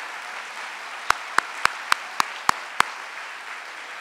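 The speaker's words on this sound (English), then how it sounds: "Let's give her a big round of applause." An audience at an announcement by Governor Cuomo at Magen David Yeshiva applauds in a steady, dense wash of clapping, with a quick, evenly spaced run of seven sharp, close claps cutting through the middle.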